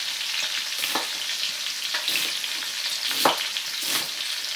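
Onions frying in palm oil for Ghanaian gari fortor give a steady, close crackling sizzle, broken by several sharper pops and stirring scrapes spaced through the sound, with no talking.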